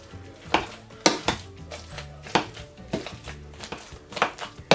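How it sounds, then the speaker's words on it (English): Potatoes being mashed and mixed in a pot for cheesy garlic mashed potatoes, with repeated soft thuds and scraping clanks of a utensil against the pot, irregular and close, no talk. "now I'm gonna mash the potatoes and mix everything together to incorporate it"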